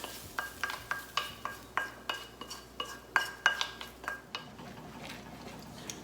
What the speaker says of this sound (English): I'm going to add them to my beef mixture here with the tomato sauce.